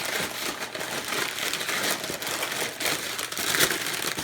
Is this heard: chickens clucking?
no